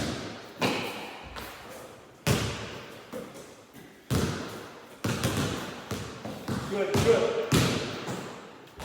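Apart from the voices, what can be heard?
basketball dribbling during ball handling drills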